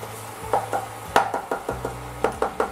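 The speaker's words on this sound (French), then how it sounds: "je mets ma farine et je vais cuire mon roux" A flour roux for béchamel sauce cooks in a pan while a utensil stirs it, giving a string of sharp, fairly close taps and scrapes at an uneven rhythm over a low steady hum, with no talking.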